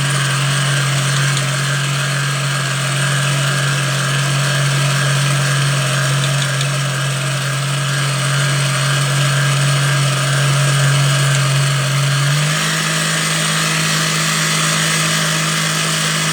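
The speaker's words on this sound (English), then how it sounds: "So I've got the whisk on full." An electric whisk runs on full speed beating meringue, a loud, steady motorised whir with a constant hum that shifts slightly in pitch near the end, with nothing else audible.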